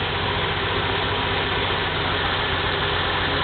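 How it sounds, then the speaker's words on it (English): A carbureted engine in a 1982 Chevy truck idles steadily, a continuous low rumbling drone with an even, close, loud tone and no talking. "The engine's running smooth."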